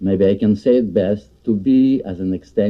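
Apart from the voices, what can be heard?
No everyday noise stands out behind the speech.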